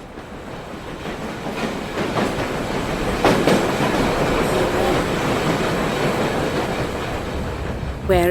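A train rolling steadily along rails, with continuous loud wheel rumble, clickety-clack rhythm and occasional squealing wheels, heard alone without voices.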